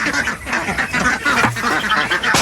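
Domestic ducks on a flood-prone farm quack together in a dense, continuous flock chorus at feeding time, loud and close with overlapping calls throughout.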